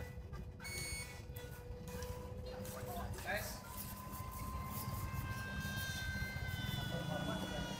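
Small RC F-15C Strike Eagle parkjet flying overhead, its electric ducted-fan whine rising and falling in pitch at moderate distance, with a person talking throughout.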